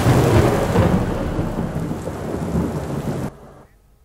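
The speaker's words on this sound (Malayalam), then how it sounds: "പെരുമഴക്കാലം." Heavy monsoon rain pours with loud rumbling thunder, a dense, steady roar close by that drops away abruptly near the end.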